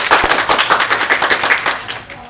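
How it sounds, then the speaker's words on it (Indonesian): A small group clapping in a quick, steady burst for about two seconds, close by, fading out at the end. "Tepuk tangan untuk Snapshot."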